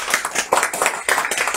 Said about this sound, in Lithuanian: aplodismentai žmogui